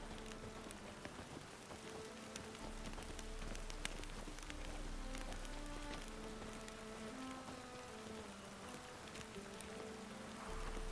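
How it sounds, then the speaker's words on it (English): Steady rain falls in The Witcher 3: Wild Hunt, a dense pattering on surfaces with scattered drips, continuous and moderately loud alongside faint tonal music. "Rain again."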